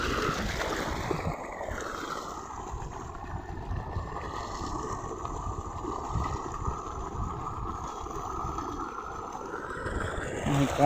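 Irrigation water pours out from a pipe into a village farm field, giving a steady, broad rushing wash that stays even throughout, blended with some wind buffeting and no talking.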